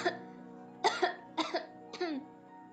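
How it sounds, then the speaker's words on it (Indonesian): A person demonstrates coughing the wrong way, with three or four close, loud coughs in quick succession and a short throaty rasp at the end. "Cara batuk yang salah."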